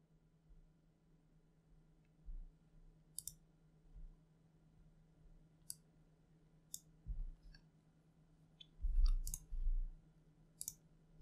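A computer mouse gives a handful of sharp, isolated clicks spread irregularly through a quiet room, some in quick pairs, with a few soft low thumps near the end.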